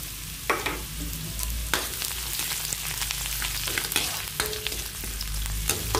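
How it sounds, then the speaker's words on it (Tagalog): Onion hits a pan of browned garlic and sizzles loudly, a dense steady frying crackle with repeated stirring scrapes and utensil taps close by, no talking. "Ilagay ko na ang sibuyas"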